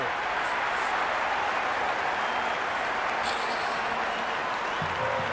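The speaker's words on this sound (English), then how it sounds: "It's almost palpable, the excitement emanating from this crowd at the moment." Stadium crowd in the cricket video game Cricket 26, a dense continuous roar of cheering and applause at steady loudness, with faint whistles rising over it.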